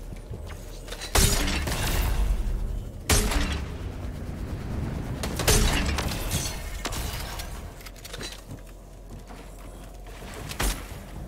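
Bomb blasts in Fortnite, several sharp booming explosions at irregular intervals, each a sudden loud hit followed by rumbling debris, with quieter stretches between.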